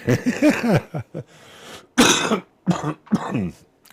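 Repeated harsh coughs and throat-clearing bursts in quick clusters, close and fairly loud, with short pauses between fits.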